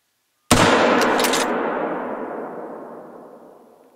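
A single loud rifle shot fired at a lynx in the hunting game theHunter: Call of the Wild, a sharp close blast whose reverberant tail fades slowly over several seconds.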